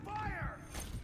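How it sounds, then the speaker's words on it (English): A weapon is reloaded in the multiplayer shooter Call of Duty Modern Warfare 3 (2023): a short mechanical clack and creak of metal parts, close and brief, with a faint game voice line. "Reloading."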